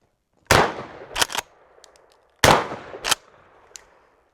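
A shotgun firing shorty shotshells outdoors lets off two loud, sharp shots about two seconds apart, each followed by a quick metallic clack and a fading echo.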